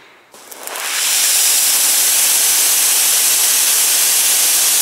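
A Karcher cordless battery pressure washer fitted with a 15-metre hose sprays water: after a brief click the loud, broadband hiss builds over a second and then holds steady and close.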